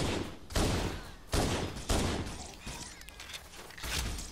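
Gunfire aimed at an Elite in the video game Halo CE, several heavy bursts of shots in a rough rhythm, each decaying before the next, fairly close with no talking.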